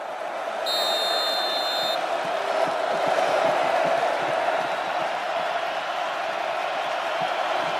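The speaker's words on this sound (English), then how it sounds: "the crowd continuing to be a factor for the Hawkeyes" Continuous roar of a packed stadium crowd at an Iowa Hawkeyes versus Indiana Hoosiers football game, loud and sustained throughout with a brief whistle-like tone early on.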